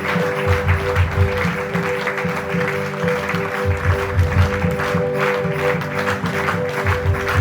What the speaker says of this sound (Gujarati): આપણે આ તાળીથી ગુંજવા જોઈએ.